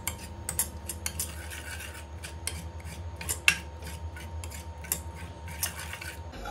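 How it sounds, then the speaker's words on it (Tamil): Cooked green gram curry is stirred with a metal ladle, quiet scraping and light clinks against the pot repeating irregularly, close by with no talk. "இதை ஒரு கரண்டி வச்சு நல்லா மிக்ஸ் பண்ணி விடுங்க"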